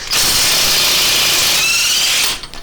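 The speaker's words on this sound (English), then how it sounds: "Take this large nut off." Power tool removing a large nut on a 2002 Honda Civic front suspension, a loud continuous high whir running for over two seconds before stopping abruptly, close up and alone.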